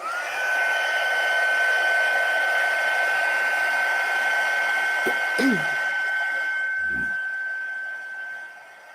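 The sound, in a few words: heat gun melting embossing powder on a card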